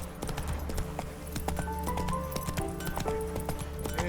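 Horse hooves clip-clop rapidly in a steady galloping rhythm in the video game The Witcher 3: Wild Hunt, close and loud throughout, with a brief whinny-like tone and scattered game sounds layered over the run.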